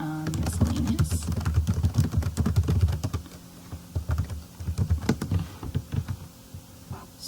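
Fast clattering keystrokes on a computer keyboard, close and crisp, in bursts with a short pause in the middle while entering accounting expense figures.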